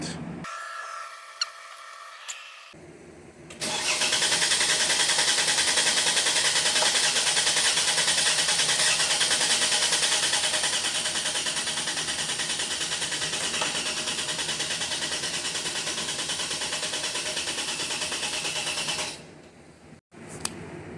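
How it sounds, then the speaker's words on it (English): A Mercedes M276 engine cranks without starting, the starter whirring steadily and loudly for about fifteen seconds after a few quiet seconds, then cutting off abruptly with no catch and no voices. "we're just going to do Crank no start"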